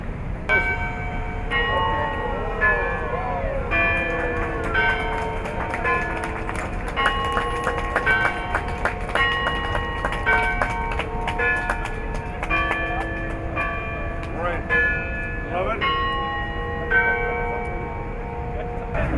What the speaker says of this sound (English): the group of five, Hanaway and his team, met again at McGill to unveil the refurbished clocks and bells